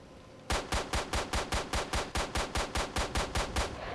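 Rapid automatic gunfire from STALKER: Shadow of Chernobyl, a steady string of about fifteen loud, close shots at an even rhythm after half a second of quiet, with no talk over it.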